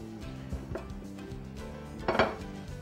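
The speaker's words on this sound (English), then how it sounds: "Now, let's preheat our skillet over a medium-high heat for at least 1 minute." A skillet is set down on a stovetop to preheat over medium-high heat, giving a few soft metallic clinks and knocks over a steady low hum, with a louder clatter near the end.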